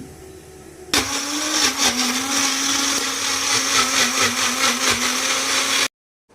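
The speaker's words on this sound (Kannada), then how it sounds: "ಇನ್ನು ಅದೆಲ್ಲ ಮಿಕ್ಸಿನಲ್ಲಿ ರುಬ್ಬಿಟ್ಟು ಒಂದು ಬೌಲಲ್ಲಿ ಎತ್ತಿಟ್ಬಿಡೋಣ" A kitchen mixer grinder runs continuously for about five seconds, grinding a chutney of dried red chillies and greens, loud and close with a steady whirring motor roar and slight pitch wobbles before it cuts off abruptly.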